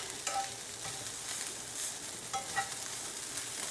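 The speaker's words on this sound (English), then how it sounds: "I'm just kind of breaking this rice up somewhat and letting it absorb some of the flavor from the onions and the sausage" Rice is stirred in a frying pan with onions and sausage, a steady sizzle running throughout with scraping spatula strokes recurring every second or so, close and moderately loud.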